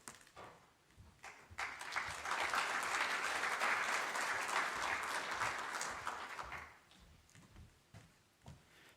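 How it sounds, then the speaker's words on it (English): A conference audience claps after a welcome talk, applause swelling from scattered claps into a steady round for several seconds and then tapering off into a few lingering claps, heard at a moderate distance in a hall. "An applause after a talk is, I think, something that we've maybe forgot what that feels like after so many Zoom conferences and meetings"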